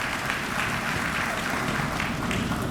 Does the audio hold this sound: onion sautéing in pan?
no